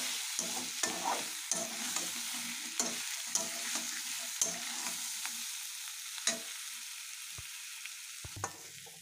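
Jackfruit and meat curry being stirred and fried in a pan, a spatula scraping in repeated strokes over a soft continuous sizzle, close and clear with no voices.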